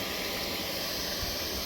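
Steam hissing steadily from a homemade barrel evaporator, made from an old well water pressure tank, while maple sap boils, a loud, continuous broadband hiss close to the microphone with no talking.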